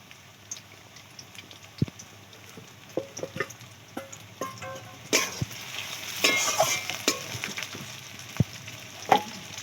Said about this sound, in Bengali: পেঁয়াজ কুচিগুলো ভাজা হয়ে গেছে